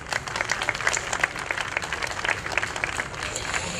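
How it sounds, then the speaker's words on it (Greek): A crowd gathered in Davaki Square, Kallithea, for a police event breaks into dense, sustained applause, many hands clapping at once throughout, with a voice faintly mixed in. "Ένα χειροκρότημα όχι μόνο για τον κύριο διοικητή"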